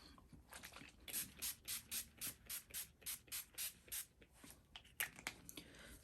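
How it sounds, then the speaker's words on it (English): About a dozen short, evenly spaced spritzes from a spray bottle of NYX Matte Finish setting spray onto a face, soft and close, followed by a few scattered quieter sounds. "I'll be spraying my entire face with the NYX Matte Finish FINI Matte Setting Spray"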